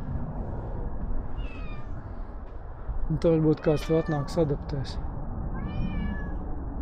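A cat meows several times near a stopped motorcyclist in northern Spain, a few plaintive cries with one burst of rapid meows in the middle, while someone talks softly over outdoor background noise.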